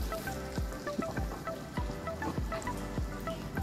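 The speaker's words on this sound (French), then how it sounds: "Il pleut encore." Rain dripping and splashing in a flooded Marrakech street where a stream has formed, irregular close drops plinking onto water and hard surfaces over a steady wet patter, with no voices.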